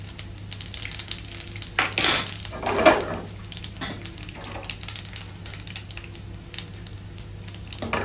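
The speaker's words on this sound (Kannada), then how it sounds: "ಈಗ ಸಾಸಿವೆ ಚೆನ್ನಾಗಿ ಹೊಡೆದಿದೆ ಈಗ ಬಡಿ ಸೂಪನ್ನು ಹಾಕ್ತಿದ್ದೇನೆ" Mustard seeds and urad dal frying in hot oil for a Kerala-style egg roast, giving a steady crackling sizzle with a few louder bursts and spoon scrapes near the middle.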